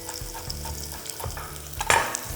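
Minced lemongrass being stirred in a hot pan, a steady close sizzle with repeated scraping strokes and a louder burst of frying near the end, no voices.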